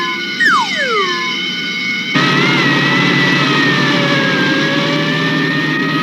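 A cartoon fire truck's siren wails with falling pitch, then its engine roars up loudly and holds a steady revving drone as it drives off, close and prominent.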